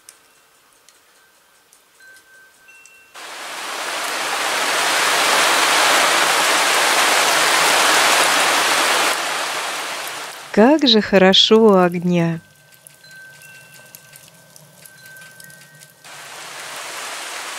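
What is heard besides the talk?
heavy rain falling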